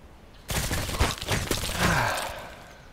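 SA-58 rifle fire in the online shooter Contract Wars: after a quiet start, a loud burst of sharp rapid shots erupts and is followed by a trailing, sweeping mechanical whoosh as the firing dies away.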